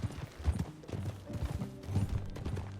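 Horse hooves clip-clopping while riding in the Red Dead Redemption 2 western video game, a faint, brief patter of irregular steps with soft game ambience.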